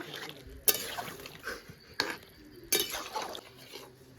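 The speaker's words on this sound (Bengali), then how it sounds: "বেগুনগুলো দিয়ে দিলাম ভালো করে একবার মিশিয়ে নেব" Eggplant pieces stirred into a simmering curry in a cooking pot, with three sharp clanks of a utensil against the pot over a soft bubbling, sizzling background, close by.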